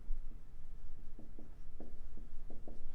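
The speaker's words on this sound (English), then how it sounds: "I'll write that down" A lecturer writes a word on the classroom board with faint, rhythmic scratchy strokes in short bursts, close but quiet under a steady room hum.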